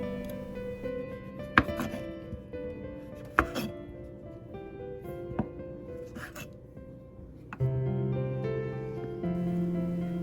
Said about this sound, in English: Trim off the bottom part of the stem with a knife